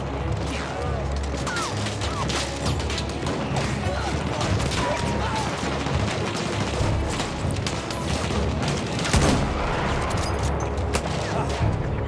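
Constant gunfire during a Battlefield 1 fortress assault, a dense unbroken clatter of rapid shots and crashes filling the whole stretch, with a voice talking now and then.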